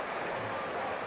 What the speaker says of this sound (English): Have to listen to the noise of that crowd.